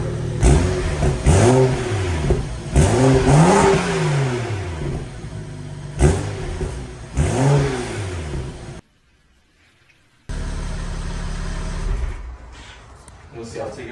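Raspy revving from a 2015 BMW 335i running a catless downpipe with the muffler deleted, rising and falling in several close throttle blips, a brief silent gap, then idle, with people talking over it.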